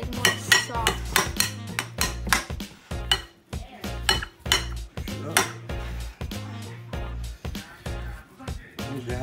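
A spoon mashes and scrapes food in a pot while cooking rosemary lime garlic chicken, giving repeated clinking, scraping strokes in a steady rhythm, close and moderately loud.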